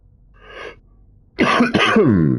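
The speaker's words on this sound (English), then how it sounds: "Lots of coughing." A person coughs and clears their throat, a soft rasp followed by a louder, harsh burst of several rough coughs, close to the microphone.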